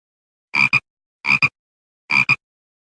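A toad croaks three times in a fairy tale audiobook, each call a short, close, throaty double croak, evenly spaced and alone against silence.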